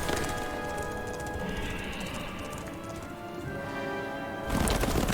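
Horse hooves clip-clopping steadily in The Witcher 3, a continuous mid-level clatter under game music and ambience, swelling louder near the end.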